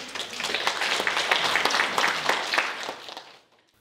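A conference audience applauds to welcome a keynote speaker at an academic symposium on Jeju haenyeo culture, with a steady round of clapping from a hall crowd that fades out near the end.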